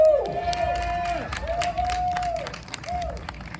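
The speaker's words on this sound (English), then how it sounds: "give a really good round of applause to the council member, Chiosei." Audience applause and cheering for a council member at a June community gathering, steady crowd clapping with whoops and a loud vocal cheer over it, lasting throughout.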